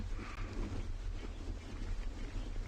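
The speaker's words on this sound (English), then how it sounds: "I'm sure you can hear the wind blowing in the background. It's incredibly windy here." Steady wind roars and buffets the microphone on a sunset safari, a continuous broadband rush with no voices.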